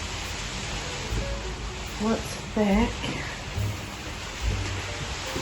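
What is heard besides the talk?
rain falling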